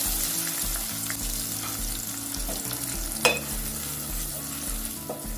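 Onion paste, two onions' worth, sizzling in hot soybean oil in a pan for a spiced pigeon curry: a steady, close frying hiss throughout, with a low rhythmic hum underneath and one sharp clink from a stirring utensil midway.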